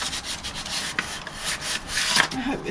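Paint being scuffed by hand under the bonnet of an Austin Allegro, a close, steady rubbing and abrading sound with uneven strokes and small knocks, no talking.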